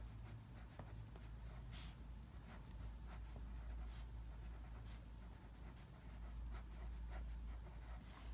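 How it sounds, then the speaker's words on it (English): Pen or pencil writing on a paper research page, soft scratchy strokes in short repeated bursts, close and quiet over a low background hum. "So I'm going to write those down."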